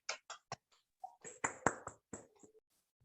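A small classroom group gives scattered, uneven handclaps, a few distinct sharp claps spread across a few seconds with brief vocal sounds mixed in.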